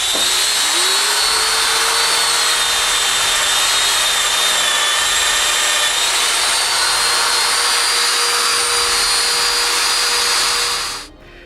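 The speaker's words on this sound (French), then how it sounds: "je marque puis je perce les trous pour les dominos qui retiendront les pattes à la base" A power tool bores holes in wood for domino joints on a six-drawer dresser leg base, a loud, steady high whine that runs up to speed and holds for about ten seconds before cutting off.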